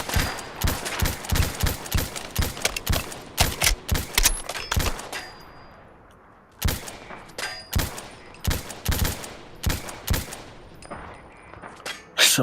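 Gunfire in a video game: bursts of shots crack out in rapid clusters for about five seconds, break off briefly, then resume as spaced, loud single shots and short volleys.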